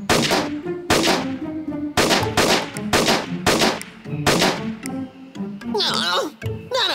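Cartoon rifle shots at a shooting gallery pop out loud and sharp at irregular intervals, several in a row, mixed with voices and brief squeaky cartoon effects.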